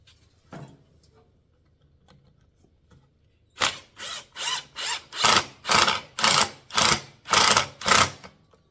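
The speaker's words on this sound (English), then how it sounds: "put a screw in this mess." A power drill drives a screw into a wooden wine box: after a quiet stretch, nine loud, evenly spaced whirring bursts pulse close up, each ramping and cutting off.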